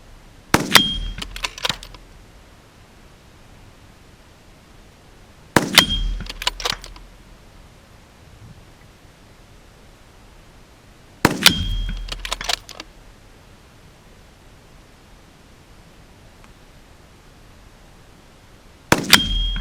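Four separate gunshots at a metal spinner target, each a sharp crack followed by a ringing metallic clang and brief rattling spin, spaced several seconds apart with quiet outdoor background between.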